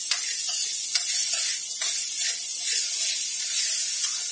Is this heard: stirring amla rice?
yes